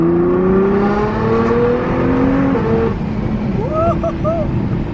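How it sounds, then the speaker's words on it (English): A quick sports car, easy to drive in automatic mode, accelerating hard: a steady engine drone rising in pitch through a gear, then a brief lull and another rising pull, with the driver talking over it. "Do a little acceleration right here, let you guys hear it, see the speed."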